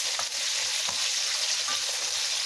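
Garlic, onion and ginger sauté in hot oil in a pan, giving a steady, bright sizzle close to the listener with a few light crackles and pops through the short stretch. No one speaks.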